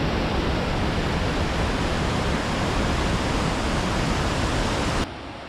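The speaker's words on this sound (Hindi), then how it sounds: "ये नदी घांघरिया में प्रवेश करने से पहले काफी ज्यादा शोर करती है" The Pushpawati river rushes noisily through the mountains near Ghangaria, a loud, dense, unbroken roar of fast whitewater that holds steady, then drops off abruptly near the end.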